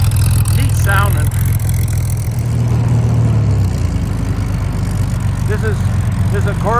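A 1961 Chevrolet Corvair 95 pickup's six-cylinder pancake engine with a Powerglide transmission idles steadily, a low, even rumble close by, with brief voices talking over it.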